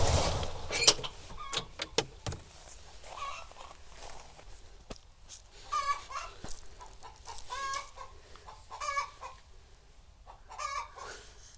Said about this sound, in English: You hear the chicken?